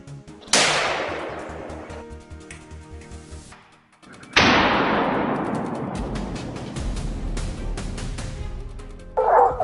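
Hunting dogs in a cornfield during a wild boar hunt yip and bark close by, with two sharp, loud bursts that ring out and fade slowly.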